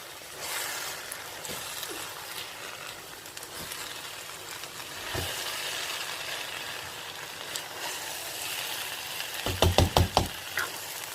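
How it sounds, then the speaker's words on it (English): Stirring jambalaya rice with sweet corn in a pot: faint scraping and soft sizzling that runs steadily, with scattered light knocks and a cluster of louder clattering spoon strikes near the end. "to add your sweet corn to it, and you also give it a good stir"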